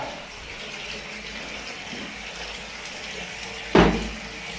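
Tap water runs steadily into a blocked bathtub where it stands instead of draining, a broad continuous wash with a brief louder splash or knock near the end.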